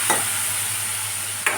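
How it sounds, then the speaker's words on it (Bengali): Potatoes frying in a pan with cumin, chilli and turmeric powder, a continuous soft sizzle punctuated by two brief scraping stirs of a spatula near the start and end, with no voices. "আলুগুলো একটু ভেজে নিচ্ছি"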